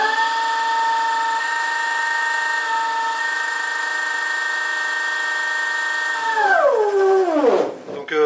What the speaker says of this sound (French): c'est un moteur quand même assez bruyant, qui transmet pas mal de vibrations